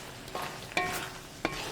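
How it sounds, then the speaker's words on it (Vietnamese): Squid stir-fried with onions in a hot pan for a sweet-and-sour dish, giving a constant crackling sizzle broken by a few sharp scraping clanks of the utensil as the food is tossed. "nghe tiếng xèo xèo và mùi thơm nữa"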